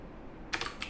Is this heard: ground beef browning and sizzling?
no